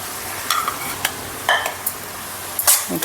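Capsicum and tomatoes stirred into onion and garlic frying in a pan for paneer ghotala, with a steady sizzle broken by several short scraping stir strokes and clinks at close range.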